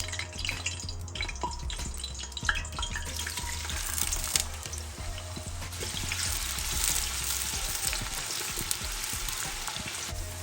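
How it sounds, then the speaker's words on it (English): Onions frying in palm oil in a pan for ogbono soup, a faint steady sizzle with light crackles and a low hum underneath. "This is palm oil, so I am going to add my onions."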